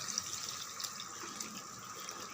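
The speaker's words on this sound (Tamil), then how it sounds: "ஒரு பெரிய நெல்லிக்காய் சைஸ் அளவுக்கு புளி கரைச்சி தண்ணி வடிகட்டி வச்சுருக்கேன். அப்படியே இதில் விட்டுடலாம்" Strained tamarind water is poured from a container into a pan while making ennai kathirikai kuzhambu. It makes a soft, steady trickle and splash with a few small bumps, close by and fairly quiet.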